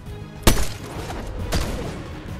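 A sniper rifle fires in a video game, landing as a sharp, loud shot, with a second, similar shot about a second later over steady game background noise.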